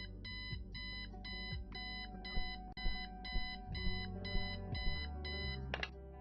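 An alarm clock in the adventure game Kathy Rain rings in rapid repeating electronic beeps, bursts pulsing in a steady rhythm over a low musical backdrop before cutting off near the end.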